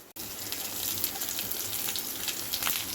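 Dried red chillies and moong dal fry in hot oil, a steady, hissing sizzle that crackles softly throughout at close range.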